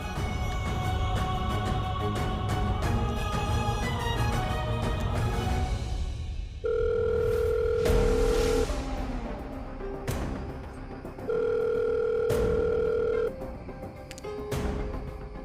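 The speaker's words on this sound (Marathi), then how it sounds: "प्रेरणाला फोन करून कॉंग्रॅच्युलेशन्स आणि थँक्यू दोन्ही बोलते." An outgoing phone call rings unanswered, giving a steady two-tone ringback in long repeated bursts with short pauses, over soft background music.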